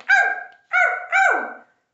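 A dog in a children's song gives three barks, one then a quick pair, clear and close with nothing behind them.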